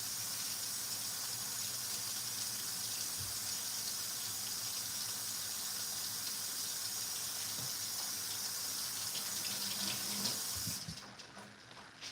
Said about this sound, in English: Now that I rinsed off the rice with water, just water